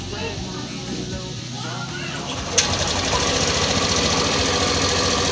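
A Bergman Street 125 Executive Edition motorcycle engine idles steadily after a quiet silent-start system, a close, even mechanical hum that grows slightly louder after a brief click midway and carries on throughout.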